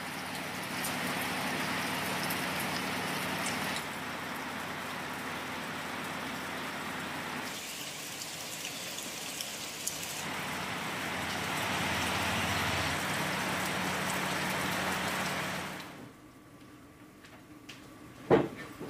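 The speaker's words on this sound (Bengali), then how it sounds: "ডুয়ার্সে লাগাতার বৃষ্টি, রাত থেকে লাগাতার বৃষ্টি।" Steady heavy rain pouring down in the Dooars, North Bengal, as a dense, continuous hiss that shifts slightly in tone, then drops off abruptly near the end.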